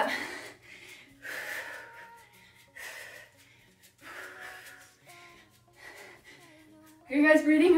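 Heavy, loud breathing from a person during a no-equipment boxing cardio workout, puffing in and out in repeated bursts, with a louder, harsher gasp near the end.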